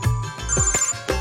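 A telephone ringtone plays in a Telugu comedy film scene, a steady electronic ring with a sustained high tone and a few soft thumps underneath, fairly close and with no talk over it.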